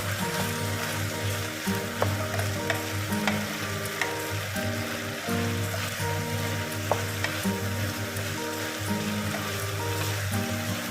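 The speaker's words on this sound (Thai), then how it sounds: "ตอนนี้น้ำก็เริ่มแห้งแล้วค่ะ เราก็จะทำการใส่ มะเขือแล้วก็ เบคอนลงไปค่ะ" Bacon and eggplant sizzle and fry in a pan with pasta over a low gas flame, a steady close hiss with stirring scrapes and small clicks throughout, no voices.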